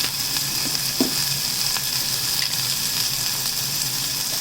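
Hing sizzles in hot oil in a pan while pepper rasam is being made, giving a steady, close hiss with a few faint pops and light stirring taps.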